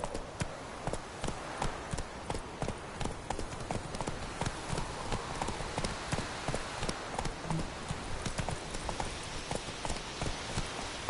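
Roach the horse gallops in The Witcher 3, hooves beating in an even, continuous rhythm that stays moderately loud throughout, with no talk.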